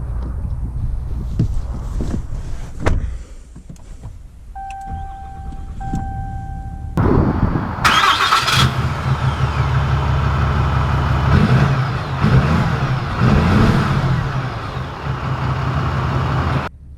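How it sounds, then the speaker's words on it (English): A 2019 Ram 2500 pickup with the black appearance package and a leveling kit sits through quiet cabin handling noises, then its engine cranks and fires around midway and settles into a loud, steady drive-away rumble. "let's take this 2500 black appearance group out with the leveling kit to see how it drives."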